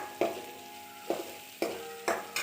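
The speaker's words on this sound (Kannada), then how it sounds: "ಇದಕ್ಕೆ ನೀಟಾಗಿ ಈರುಳ್ಳಿ ಫ್ರೈ ಆಗಬೇಕು." Onion fries in a pan with ginger garlic paste, a faint hiss punctuated by four or five distinct spatula scrapes at uneven intervals, close but quiet, with no talking.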